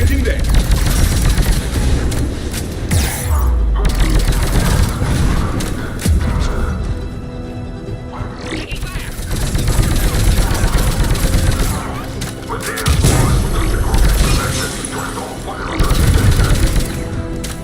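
Gunfire and explosions at a checkpoint in Mass Effect 3, with sustained rapid automatic fire and heavy booms in repeated waves, and voices talking over the combat.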